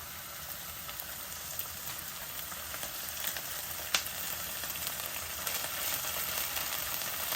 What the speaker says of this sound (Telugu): ఈ టైంలో అల్లం వెల్లుల్లిపాయ పేస్ట్ కూడా వేస్తే రెండు కలిపి వేగుతాయి అన్నమాట